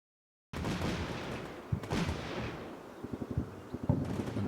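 Gunfire in the war game Combat Mission Shock Force 2 during an assault, a rapid run of distant cracks and booming bursts that come in irregular clusters over a rumbling battlefield backdrop.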